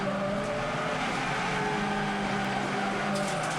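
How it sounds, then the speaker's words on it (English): A front-wheel-drive TCR touring car at Phillip Island, heard from an onboard camera, screams at full throttle in a loud, steady high-revving drone, alone and close. "you can hear he's got the throttle nailed"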